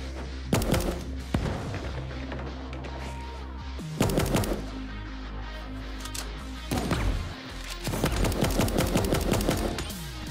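Video game gunfire in Super Animal Royale: repeated bursts of rapid shots and sharp bangs in three clusters, loud and close, with brief gaps of quiet between volleys.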